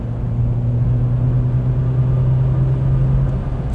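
A City Rover small hatchback cruising steadily in fourth gear, a constant low engine drone and road rumble heard from inside the cabin, loud and unbroken.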